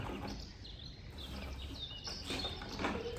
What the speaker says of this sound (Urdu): ذرا آپ بھی آوازیں سنیں چڑیوں کی